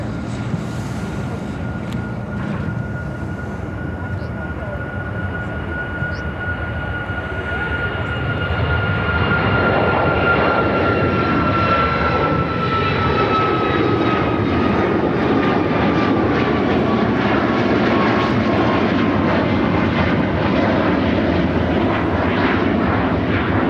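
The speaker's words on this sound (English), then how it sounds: "This is American Airlines 1076 taking off to Charlotte on the MAX 8." An American Airlines Boeing 737 MAX 8 takes off at Chicago O'Hare, a whining jet sound building into a loud, sustained roar that fills the airport air.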